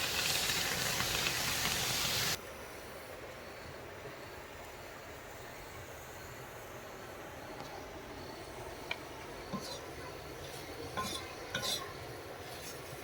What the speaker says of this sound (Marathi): गरम तव्यावरच आपण आता कारले टाकून घेणार आहे